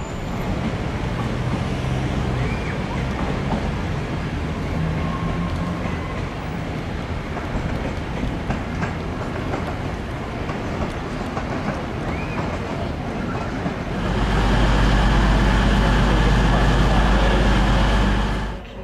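A Cross Country Voyager diesel train runs through a station, a steady rolling rumble with faint rail clatter that grows into a loud, close roar near the end, with some speech in the background.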